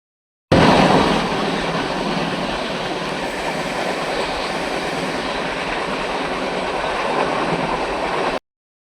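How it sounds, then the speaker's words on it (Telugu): A passenger train pulls into Vijayawada railway station, a loud continuous rumble of rolling wagons with wheel clatter and a metallic squeal, close by and sustained throughout without talk. "10:30కి రావాల్సిన ట్రైన్ ఒక 15 మినిట్స్ లేట్ అయింది విజయవాడ రావడానికి"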